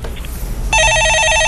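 A telephone starts ringing partway through with a loud, bright electronic trill, cutting in over a dull broadcast-studio background with no speech.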